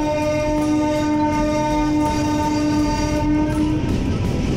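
A train passes near Renigunta railway station, sounding a long steady horn over a loud, continuous rumble of wagons and rhythmic clattering wheels that carries on after the horn stops.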